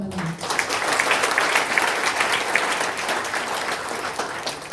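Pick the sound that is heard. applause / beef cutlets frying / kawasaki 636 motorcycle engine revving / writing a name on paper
applause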